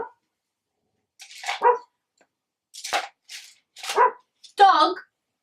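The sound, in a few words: dog barking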